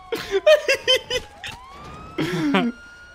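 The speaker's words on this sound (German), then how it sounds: "Oh, sitzt irgendwo im Polizeiauto." Police car siren in GTA Online heard in short wailing bursts, a rapid series of rising tones followed by a longer sustained wail, fairly loud against a quiet game background.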